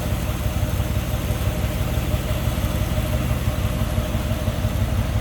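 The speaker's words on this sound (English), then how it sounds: "They did the engine swap. Nice smooth running engine." A 1957 Ford Fairlane 500 with a swapped-in 390 V8 and 4-speed manual idles smoothly and steadily, a close, even engine rumble with no talking.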